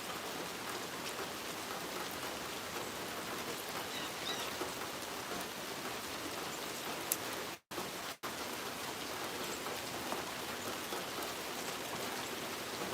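Steady rain falls without a break, a dense close hiss of drops hitting surfaces with no voices, cut by a brief dropout midway.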